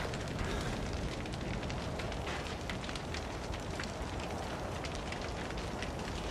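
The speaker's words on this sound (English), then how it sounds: "all I did was just walk into fire and I got scared" Fire burning in Outlast 2, a dense, continuous crackling roar with sharp pops scattered throughout, close and steady from start to finish with no voices.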